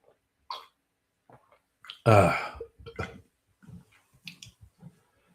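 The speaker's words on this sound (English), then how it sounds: "I don't know why I've suddenly got the burps." Burping after fizzy mineral water following cocktails: one loud, rough belch in the middle, with a few short, quieter throat and mouth sounds scattered before and after.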